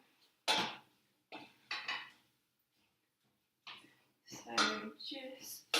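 Cooking pans set down on stove rings while preparing spaghetti bolognese, giving a few separate metallic clunks and scrapes spread across several seconds, close and moderately loud.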